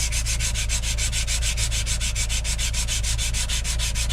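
Reclaimed wood is sanded by hand in quick, even back-and-forth strokes, a close, steady rasping rhythm repeating several times per second with no talk.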